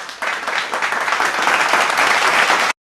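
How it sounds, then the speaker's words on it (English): A crowd at a closing ceremony bursts into loud, sustained applause for dancers, dense clapping holding steady for a few seconds before cutting off abruptly. "Let us have a huge round of applause for our enthusiastic dancers."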